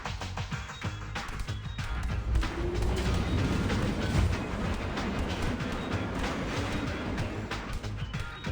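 Train moving in the game TMNT: Mutants Unleashed, a steady rumbling roll with rhythmic clattering and occasional metallic clanks, moderately loud and continuous with no voices.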